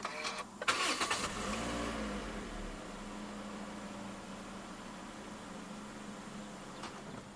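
A 2017 Toyota Corolla Altis 1.8 starts by push button: a brief cranking catch, then the engine settles into a steady, quiet idle heard alone from inside the car.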